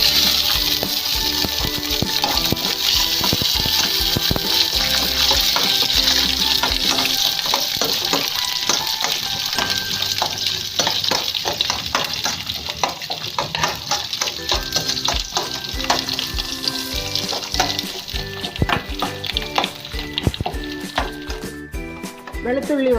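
Garlic sizzles steadily in hot oil for a mango pickle, a dense continuous crackle with occasional clinks, set against background music and no speech.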